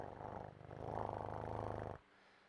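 A person imitating a cat's purr, a soft close rhythmic rumbling for about two seconds, then quiet.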